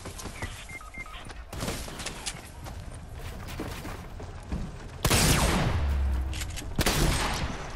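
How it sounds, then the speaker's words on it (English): Gunfire in the battle royale game Fortnite while shooting at an opponent: scattered shots and clatter over game noise, then a louder, denser burst of firing near the end. "I'm shooting him."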